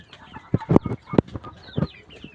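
Several chickens cluck inside a poultry farm shed in short, irregular bursts, fairly close, with a busy flock chatter filling the gaps between louder calls.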